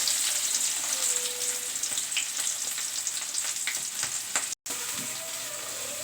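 Chopped onions frying in a pan for fish curry (chepala pulusu), a close, steady hiss and crackle of oil with light stirring scrapes and a brief dropout near the end.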